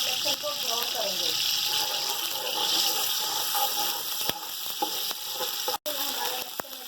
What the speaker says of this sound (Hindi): हम ये डाल देंगे और अदरक लहसुन को ब्राउन करेंगे